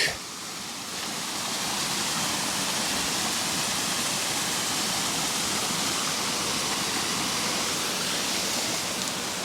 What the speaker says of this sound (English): Beautiful clean water.